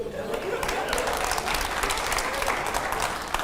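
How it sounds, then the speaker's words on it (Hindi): Studio audience at a televised rapid-fire interview with India's foreign minister breaking into loud, sustained applause, a steady wash of clapping that holds from start to finish. "चलिए जोरदार तालियां हो जाए"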